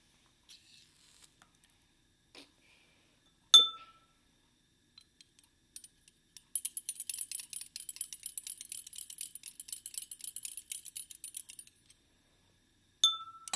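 Two bright, ringing clinks of a glass stirring rod against glassware stand out, separated by a stretch of faint, rapid tinkling and light tapping in an otherwise quiet lab.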